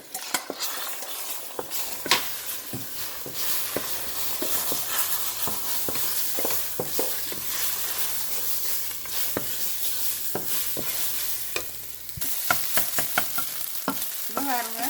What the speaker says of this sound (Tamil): நான் இப்போ முட்டையை ஊற்றி வறுக்க போகிறேன்